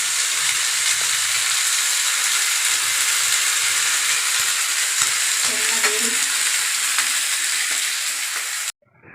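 Three fish fry together in oil in a pan with a loud, constant close sizzle and crackle that cuts off abruptly near the end.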